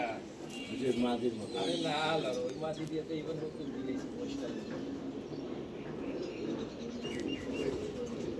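Low, throaty cooing from a silver panel pigeon in a loft rolls on continuously nearby, with chirpy bird calls early on and someone speaking over it throughout.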